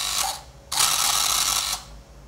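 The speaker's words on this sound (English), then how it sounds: "Noise of the servo resetting itself." A water rocket parachute-deployment servo whirs in two short mechanical bursts, a brief one and then a longer one of about a second, close and alone before fading out.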